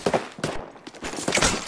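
Gunfire from the video game Apex Legends, several sharp shots and short bursts in quick succession, fairly close and loud, with no talking over them.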